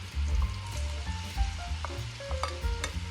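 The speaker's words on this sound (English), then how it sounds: "I'm also going to be adding my garlic." Garlic hits a hot pan while cooking rice and peas and sizzles steadily, with stirring scrapes and crackles close up over faint background music.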